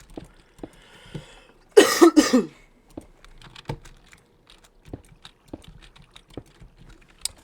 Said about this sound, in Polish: Oj, znowu pisanie bez patrzenia na klawiaturę.